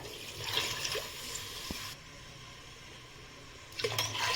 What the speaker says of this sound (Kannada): ನೀರು ಹಾಕ್ಕೊಳ್ಳೋಣ ಅದಕ್ಕೆ